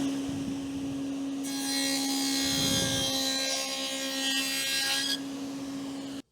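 A power saw cuts a 3/4-inch-wide dado across a wooden board, a steady loud whine running for about four seconds over a constant motor hum before dropping off.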